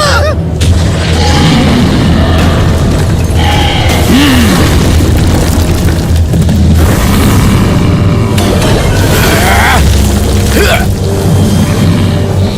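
A heavy torpedo explosion in an animated cartoon, a loud, dense booming rumble that fills the scene without letup, with honk-like cartoon sounds layered over it.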